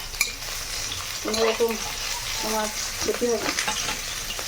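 Small fish crackle and sizzle in hot oil as they are lifted out, with bursts of stirring and utensil clinks over the steady frying hiss and a faint voice in the background.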